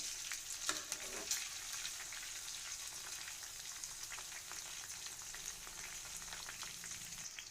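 Sliced ginger, green chillies and a dried red chilli frying in hot oil with mustard seeds, giving a steady quiet sizzle broken by sharp pops and crackles, with no talking.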